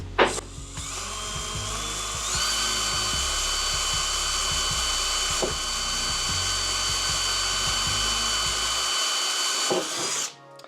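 A power drill bores screw holes in an insulated van sleeper pod, a close, loud whine that revs up, holds steady for several seconds with small clicks and thumps beneath, then winds down and stops.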